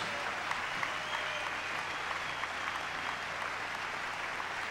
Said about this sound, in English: Together, ladies and gentlemen, lots of applause.